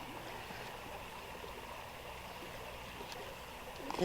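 A shallow creek flows steadily over stones with a soft, constant trickling babble, fairly quiet and unbroken, with a faint knock near the end and no talking.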